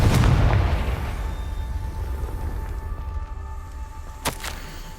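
A Confringo spell in Hogwarts Legacy bursts with a loud booming blast at the start, its rumble slowly fading over several seconds, followed by a brief sharp crack near the end.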